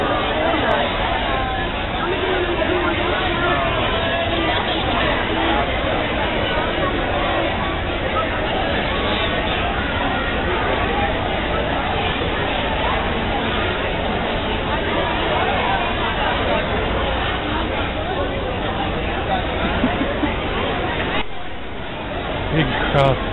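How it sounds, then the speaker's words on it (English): A big crowd at an academic competition fills the space with dense, steady chatter and overlapping voices, loud and close throughout, with a brief dip near the end before the hubbub resumes. "Big crowd."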